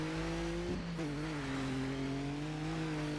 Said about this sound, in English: Taking the final corner with the tap of the handbrake.